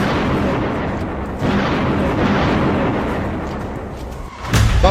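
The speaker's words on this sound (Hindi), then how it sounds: "बमबारी शुरू हो चुकी है।" Artillery bombardment in a conflict zone rumbles as a continuous loud roar of explosions, with a sharper blast near the end.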